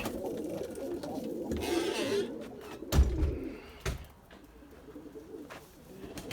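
Erzurum white pigeons coo from their loft against a steady ambient bed, with a few louder thumps and rustles midway and a voice now and then.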